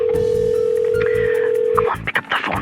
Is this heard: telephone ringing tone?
yes